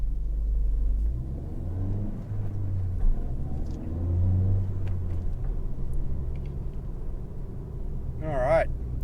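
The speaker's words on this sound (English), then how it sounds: "we'll just take off in first and second and then go for a bit of a drive" A Ford Fiesta ST Mk7 fitted with a Mountune rear roll restrictor pulls away through first and second gear, its low engine drone rising and falling between shifts, with a short high squeak near the end.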